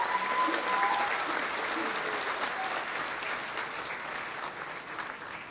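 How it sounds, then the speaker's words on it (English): A conference audience applauds for the startup ShopUp at an investment presentation, a dense, steady round of clapping from a large crowd that gradually softens. "So let's give a big round of applause for ShopUp."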